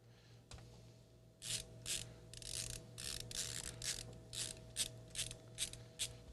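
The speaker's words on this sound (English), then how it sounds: "I got a bajillion screws I got to remove here" Screws being removed from a Data General computer, heard as a series of short, bright ratcheting bursts of a screwdriver at close range, repeating irregularly over a steady low electrical hum.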